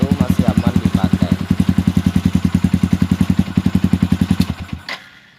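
A Yamaha Xabre motorcycle engine idles roughly with a steady, loping chug of even pulses that carry on for several seconds before it splutters and dies. The machine is close and loud, with no voices.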